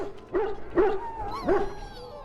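Dog in the Dragon Age Origins video game whimpering and giving short yips and barks, three distinct bursts over about two seconds, close and fairly clear against a low game background.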